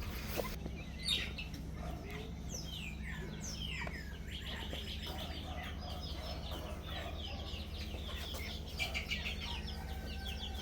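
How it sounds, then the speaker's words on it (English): Chickens cluck softly amid a steady outdoor bird chorus, with scattered chirps and tweets from other birds over a constant low background hum and no voices. "Look at that big little chicken."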